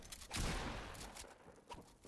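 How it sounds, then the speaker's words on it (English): Rapid gunfire crackles through a battle royale video game fight, a dense burst of overlapping shots followed by scattered single reports at moderate volume. "1v1 situation, good shots coming in from Anonymous 270."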